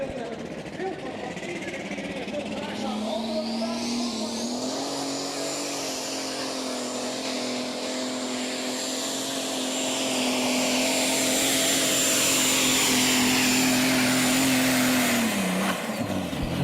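DAF-powered light modified pulling tractor making a full pull at the Putten tractor pulling event, a loud sustained engine roar with a high whine climbing and holding steady, growing louder as it runs, then dropping off abruptly near the end.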